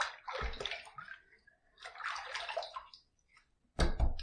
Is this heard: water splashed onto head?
yes